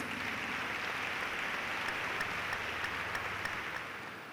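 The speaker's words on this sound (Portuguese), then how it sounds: "Uma salva de palmas para Jesus." Steady, dense applause from a large church congregation, holding strong throughout and easing slightly at the end.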